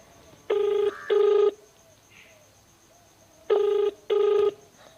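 A telephone rings in two double bursts, each pair of short electronic trills separated by a few seconds of quiet.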